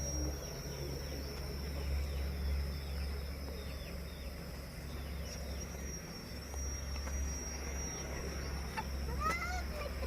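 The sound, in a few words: chickens and ducks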